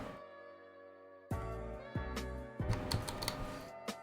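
Keystrokes on a Melody 96 keyboard fitted with Aqua Zilents switches, muted clicky taps in quick irregular bursts and a few firmer key hits, following a steady low hum at the start.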